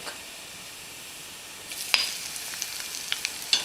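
Garlic and cumin seeds frying in oil in a hot pan give a steady close sizzle, with sharper crackles and spits popping out over the second half.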